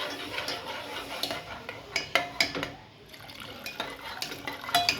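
A spoon stirs rice and milk in a cooking pot, knocking and scraping against the metal in irregular clinks over a soft slosh of liquid, close by and with no voices.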